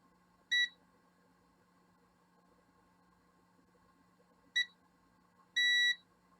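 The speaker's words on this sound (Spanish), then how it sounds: "Podemos escuchar ese pitido, nos dice que tiene continuidad" A multimeter on continuity test emits three clean electronic beeps, two short and one longer, against a faint steady hum while probing a circuit on an iPhone X board that won't power on.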